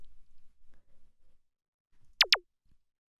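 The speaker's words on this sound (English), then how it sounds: "this little zap sound that I made" Two quick synth zaps made from a sine wave with a short downward pitch envelope, sharp and bright, back to back after faint low rumbles, otherwise near silence.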